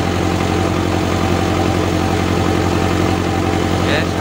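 A car engine idles with its battery not charging and one battery cable about to be disconnected, giving a steady, close, even hum with a low, constant drone and no change in revs.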